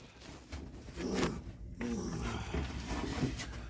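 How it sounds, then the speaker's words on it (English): An old tire on an old car scrapes and knocks against surrounding parts as the rear end is turned by hand with the parking brake off, making a continuous rough, groaning grind that swells louder around each push. "So that is the old tire on the other side hitting stuff. That's what's making all that sound."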